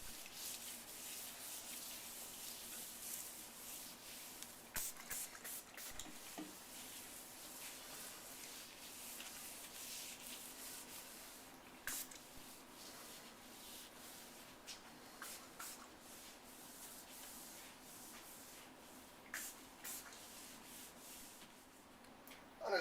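A gloved hand rubs granite sealer into a stone countertop, giving a soft, steady, quiet friction hiss with faint scattered ticks throughout, no voices.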